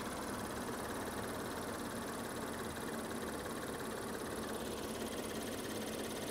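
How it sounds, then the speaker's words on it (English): A Lexus SC430 engine idles steadily with a light chattering sound that comes and goes. The broadband rumble is close and continuous, and no one speaks. "There's a definite little chatter sound going on. See how it comes and goes?"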